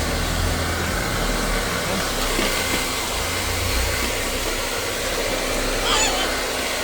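A blower dries a dog after its bath, giving a loud, steady roaring rush of air that runs unbroken throughout with barely any change in pitch, while a voice murmurs faintly under it.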